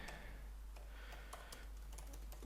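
Soft, irregular clicking of keys on a computer keyboard, faint and close, in short uneven bursts over a low steady hum, with no voices.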